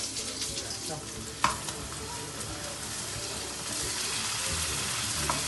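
Food sizzles steadily in a hot pan on a home stove, with a single sharp clack of a utensil against the pan partway through, sounding close and continuous with no talk over it.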